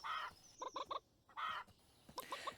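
Chickens cluck in the CryptoFightClub video game, with short repeated clucks in quick bursts over a faint steady background hum, fairly quiet overall.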